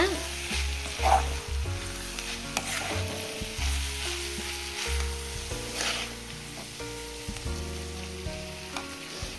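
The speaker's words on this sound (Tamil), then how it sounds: "கொஞ்சம் நல்லா எண்ணெய் விட்டு வணக்குங்க." Food frying and sizzling in oil in a pan with frequent stirring, for a Tamil home-style dish to be finished with coriander leaves; steady close sizzle throughout, with no talking.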